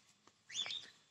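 A short burst of high chirps from a bird, fairly faint and brief, with quiet background noise around it.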